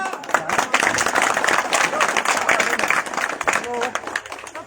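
At an outdoor Congress political rally, a crowd claps in a dense, continuous burst of applause while a speaker's amplified voice carries over it.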